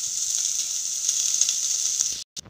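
Onion frying in a pan for mutton rassa gives a steady, bright sizzle close by and alone, then cuts off abruptly near the end with a brief burst before silence.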